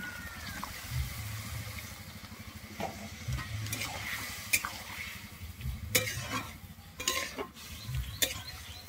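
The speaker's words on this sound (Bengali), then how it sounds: "এরপর আমি জল দিয়ে দিচ্ছি।" Water goes into a pan of cauliflower stalk curry with cooked-down spices, a soft sizzle and bubbling under intermittent stirring, utensil knocks and scrapes against the pan, close and moderately loud.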